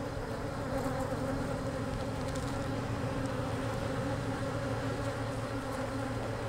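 Honey bees buzz around a hive being split into new boxes, a dense, continuous drone of many wings, close and steady throughout with no one speaking.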